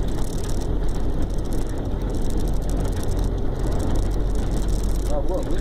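Mercedes-Benz LS1935 truck driving with a continuous low engine rumble and road noise during a gear change, steady and close from inside the cab.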